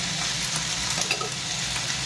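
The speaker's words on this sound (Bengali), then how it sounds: "এখন আমি মশলার মধ্যে দিয়ে দেবো জল।" Water poured into a hot spice mixture in a pan while cooking pakoda gives a steady, close sizzling hiss that lasts about two seconds, with no talking.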